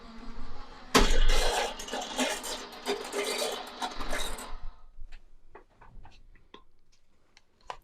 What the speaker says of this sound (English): Let's go to the die cut, run it through.